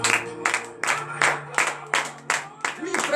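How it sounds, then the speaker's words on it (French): Bursts of clapping from a church congregation at a Friday morning prayer service in Benin, rhythmic and roughly twice per second, with a steady low hum underneath and voices mixed in. "Donnez des vives acclamations à l'Éternel."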